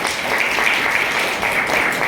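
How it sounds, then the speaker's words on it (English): Audience applause at a forum on empowering children, a steady, dense wash of many hands clapping that holds evenly for about two seconds without pause. "give yourself a big applause"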